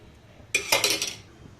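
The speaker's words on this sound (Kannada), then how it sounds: "ಈಗ ಸ್ಟವನ್ನು ಹಚ್ಬಿಟ್ಟು ಮತ್ತೆ ಅದೇ ಪಾತ್ರೆ ಇಕ್ಕಿ ಸೊಪ್ಪಿಗೆ ಒಗ್ಗರಣೆ ಹಾಕೋಣ" A metal cooking pot clanks down onto a stove in a home kitchen, a single sharp clatter with a short ringing tail, close and loud against a quiet background.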